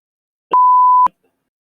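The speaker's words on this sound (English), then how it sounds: "Just beep it." A single steady censor bleep, a pure tone held for about half a second, loud and isolated, framed by brief clicks at its start and end with silence around it.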